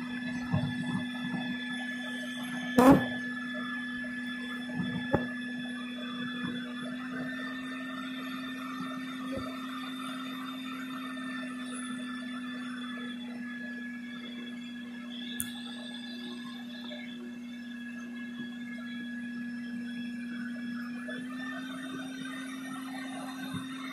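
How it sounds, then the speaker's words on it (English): A bee removal vacuum drones throughout with a constant low hum and a faint whine above it, broken by a few brief knocks. "that kind of helps them push into the vacuum"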